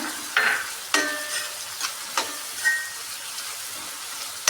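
Dried red chillies dropped into hot oil for a paneer dish, a quiet crackling sizzle with a few sharp spits and pops spaced through it, close by, with no voices.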